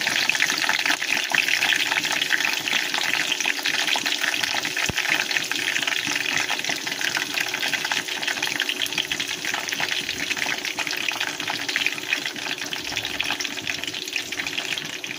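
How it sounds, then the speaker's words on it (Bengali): Curry leaves and fenugreek seeds dropped into hot oil for a homemade hair-care preparation, giving a steady, loud, broadband sizzle and hiss that holds evenly throughout with no talking. "আগে কারি পাতা দিচ্ছি, তারপরে মেথি দেবো"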